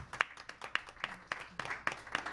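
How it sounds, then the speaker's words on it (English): Applause for a jazz group at a birthday bash, with sparse, evenly spaced claps from a few people rather than a full crowd, fairly faint and steady throughout. "let's give them a round of applause."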